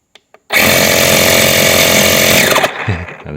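Small portable rechargeable tire inflator air compressor for trucks and pickups switching on after a couple of button clicks, then a loud close buzzing motor drone that holds steady for about two seconds before winding down.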